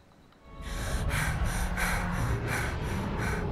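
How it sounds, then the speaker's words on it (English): A labored-breathing sound effect begins after a brief quiet lead-in, then runs as a close, loud series of about eight heavy, rasping breaths in a steady rhythm. "Labored breathing."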